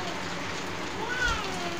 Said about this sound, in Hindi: ये आ गई है बहुत तेज की बारिश